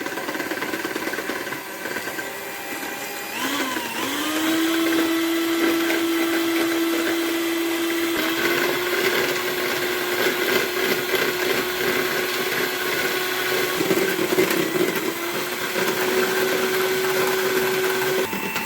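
An electric mixer beats egg yolks with sugar for a black forest cake batter, a steady close whirring motor hum that shifts pitch as the beaters work through the mixture, alone without talk.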